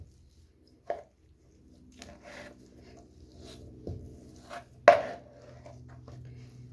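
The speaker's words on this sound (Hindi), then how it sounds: "मेरे पास नरम वाली खजूरें हैं, तो ये अच्छी तरह मैश हो जाएंगी" Soft dates being mashed for date laddu, a few sparse, irregular thuds and squishy presses against a quiet kitchen background.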